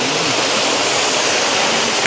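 Nonsuch Falls, a waterfall in Jamaica, roars as a dense, loud, unbroken rush of falling water heard close up with no voices.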